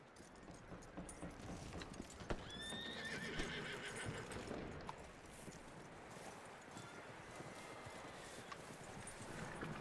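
In Red Dead Redemption 2, a horse whinnies once amid a steady clatter of hooves, with faint mechanical clicks in the background.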